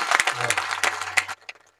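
An audience at a devotional kirtan gathering bursts into brief, energetic clapping that lasts about a second, then fades to a few scattered claps over a low sustained tone.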